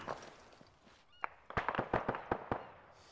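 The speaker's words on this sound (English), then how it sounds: "Throw a frag towards 240 as far as you can." A frag grenade detonates in ARMA 3, heard as a cluster of sharp cracking bursts and echoing pops rolling through the middle of the clip, loud against a quieter background of distant battlefield noise.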